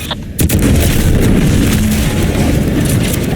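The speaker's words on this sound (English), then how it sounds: "What's that? An explosion?" A loud explosion in The Outer Worlds 2 video game: a sharp close blast followed by a heavy rolling rumble that stays loud and sustained for several seconds.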